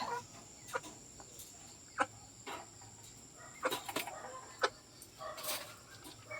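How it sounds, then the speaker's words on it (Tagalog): Native chickens and roosters cluck and call in short, scattered bursts, fairly quiet, over a steady faint background hum. "So meron tayo ditong ito, yung ating rooster tandang."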